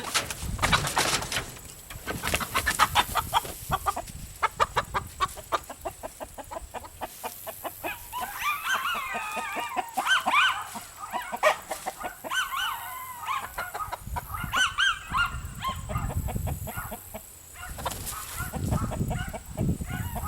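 Chickens in a play yard cluck and chatter continuously, with busy overlapping calls and some scratching and rustling nearby, moderately loud and close, no speech.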